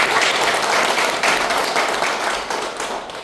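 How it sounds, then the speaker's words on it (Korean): Dense audience applause fills a public hearing on recording unsung independence activists in Chungbuk, steady and loud throughout with many hands clapping at once and no talk over it. "여러분들에게 큰 박수 다시 한번 부탁드립니다"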